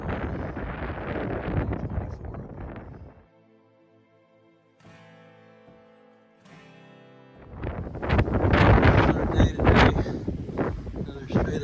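Strong wind on a foggy, cold hillside buffets the microphone in loud, roaring gusts, easing to a quieter lull in the middle before surging back even harder.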